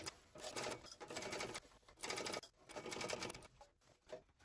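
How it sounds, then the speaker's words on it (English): A sewing machine runs in several bursts while stitching a bag seam, back-stitching at both ends with 3.5 stitch length, the motor whirring close and fairly loud with brief pauses between runs. "Back stitching at the beginning and the end of the seam."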